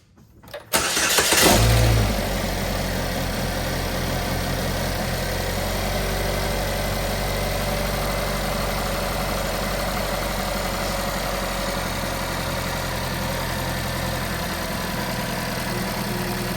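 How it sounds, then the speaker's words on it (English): A 2013 Chevrolet Equinox engine cranks and catches after a moment, then settles into a steady, loud idle that rumbles on without change, after an exhaust manifold replacement. "I'll start it for you guys so you guys can hear it."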